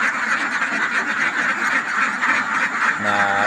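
Raised ducks quack in a noisy, continuous chorus throughout, with a clearer nearby quack rising near the end.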